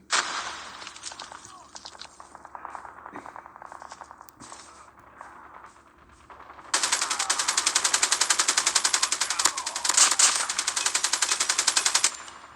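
Rapid automatic gunfire in a Call of Duty match, with lighter scattered shots early on, then loud, sustained bursts of rattling fire dominating the second half.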